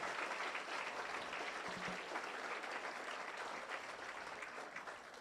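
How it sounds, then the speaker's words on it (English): Audience applause for schoolchildren at an award ceremony, a dense, steady wash of clapping from a large crowd that holds at an even level for about five seconds, somewhat distant and soft. "A big round of applause for these children."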